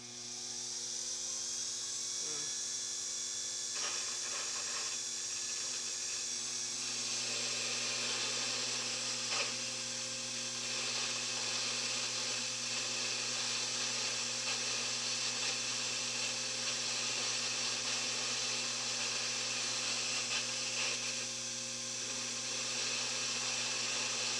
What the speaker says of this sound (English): It's just a small lathe.